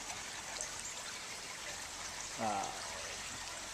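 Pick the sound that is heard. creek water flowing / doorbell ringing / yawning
creek water flowing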